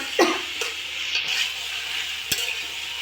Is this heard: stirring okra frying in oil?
yes